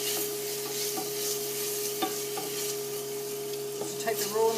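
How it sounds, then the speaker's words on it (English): Pepperoni salami and onion sizzle steadily in oil in a pan over very low heat, with a constant frying hiss and a few soft stirring clinks and scrapes as the ingredients are tossed. "our pepperoni salami and our onion. Just give that a toss around."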